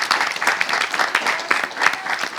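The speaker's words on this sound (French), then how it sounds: "Et applaudissez le Seigneur" A congregation claps together at a New Year's Day church service, a lively, fairly close burst of applause with slightly pulsing rhythm and no speech on top.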